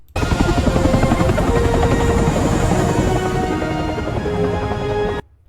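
Steady loud rotor-like drone with engine whir, continuous and close for about five seconds before cutting off, a helicopter sound from an AI-generated video, with faint thudding under it.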